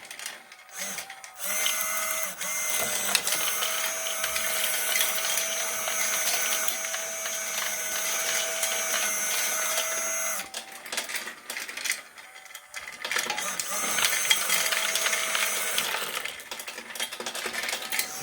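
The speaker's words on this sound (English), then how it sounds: "with moving this 360-degree servo, all the coal is delivered to the center" A 360-degree servo turns a wheel in a G-gauge RC coal tower, pushing model coal to the center. It makes a thin, high motor whir with gritty rattling, running in two long stretches separated by a brief pause.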